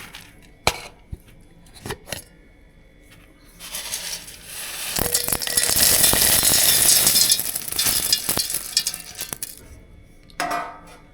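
A ground chickpea mixture is tipped into a jug. Scattered clinks of utensils lead into a few seconds of steady, close rushing pouring noise, then a few more clinks and a short scrape.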